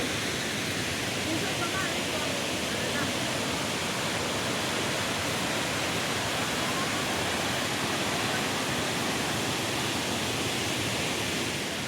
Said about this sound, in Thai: มาเบิ่งน้ำตกตาดตะยิกเสือ